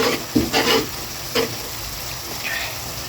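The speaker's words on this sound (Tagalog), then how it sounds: "Lagyan pa natin ng cabbage." Cabbage is added to bihon guisado rice noodles frying in a pan and stirred in, making a steady sizzle with a few close scraping and tossing strokes near the start, then quieter frying.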